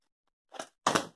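Scissors cut fabric close to the edge while a cushion is being made: two short, crisp snips, the second louder and nearer than the first, over near silence.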